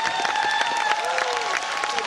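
A concert audience claps and cheers in a large hall, dense applause mixed with sustained tones and ringing, heard close and fairly loud for a brief moment.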